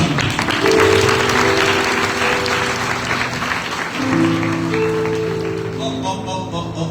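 Church audience applause at a Good Friday service: a sustained wash of many hands clapping over held musical tones, gradually easing toward the end.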